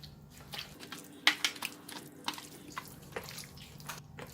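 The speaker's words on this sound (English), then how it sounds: "It's too thick, so I'm going to add in a little bit of water." Soft splashing and trickling of water poured into thick flour batter for fried chicken, with a few brief drips and clinks, close by, no talking.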